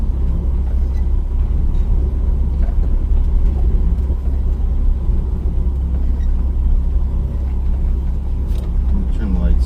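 A 1978 Datsun B210 engine runs at a steady low idle, a continuous rumbling drone, close and fairly loud, with occasional faint knocks and no clear talk.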